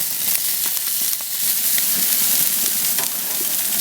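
Fatty chicken wings sizzling on a hot grill, a loud continuous crackling hiss with dense popping fat spatters, steady throughout with no voices.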